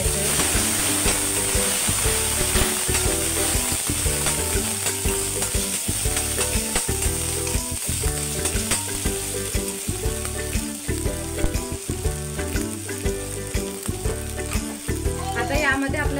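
Onion with ginger-garlic paste sautés in a pan, a loud, steady sizzle broken by frequent rhythmic scraping stirs for a long stretch, close up, with no voices.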